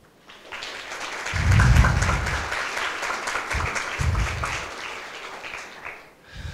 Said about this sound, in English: I would like to start my presentation by giving a big applause to Laszlo Paxo and his team of business days